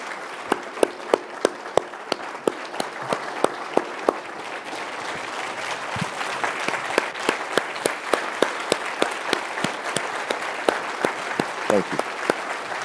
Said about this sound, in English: Let's round of applause for a true American hero,